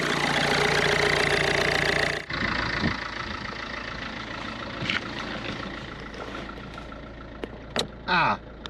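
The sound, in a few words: car engine idling after repair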